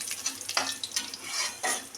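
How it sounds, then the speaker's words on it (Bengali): Whole garam masala, cumin seeds and bay leaves tempering in hot oil, stirred with a utensil that scrapes and clinks against the pan in several bursts over a continuous sizzle. "ফোড়নটা একটু নাড়িয়ে নিই"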